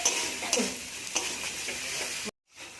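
Ground spice paste being stir-fried in a pan for a tilapia fish curry, a steady close sizzle with scraping stirs of the spoon, ending in an abrupt brief silence.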